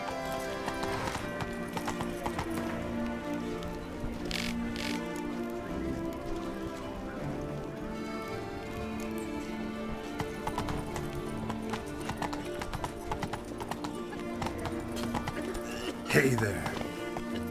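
Steady hoof clip-clops from a horse being ridden through Beauclair in The Witcher 3, a rapid rhythmic trot under constant ambient game music, with a short spoken greeting and a brief whinny near the end.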